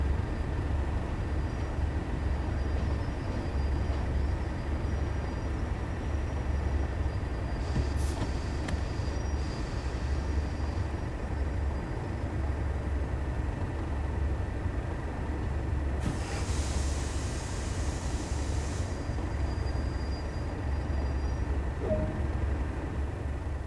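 Class 37 diesel locomotive in Train Sim World 2 on the Tees Valley Line, a continuous low engine drone and rail rumble with faint hissing and clanks, steady throughout with no talking.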